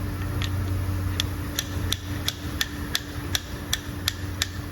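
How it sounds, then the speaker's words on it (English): A hammer taps a metal part down onto a rod in a workshop, about a dozen sharp metallic strikes at a steady, roughly even pace, close and crisp over a low background hum. "now we can smack it down with a hammer."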